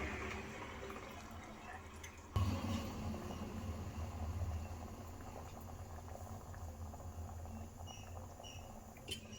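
Tomato kurma simmering in a pan, a soft steady bubbling and gentle popping that rises slightly partway through and continues evenly without talk.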